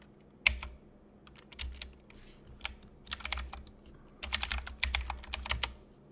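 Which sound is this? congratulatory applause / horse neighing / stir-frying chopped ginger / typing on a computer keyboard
typing on a computer keyboard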